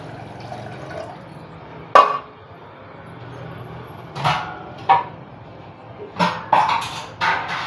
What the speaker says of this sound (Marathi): आता मी याच्यामध्ये पाणी टाकते.